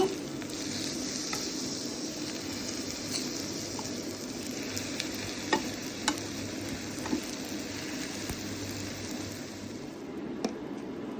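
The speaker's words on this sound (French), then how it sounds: "Là, on retourne. On retourne les aubergines." Aubergines frying in a pan give a steady close sizzle, with scattered soft clicks and taps as the slices are turned over.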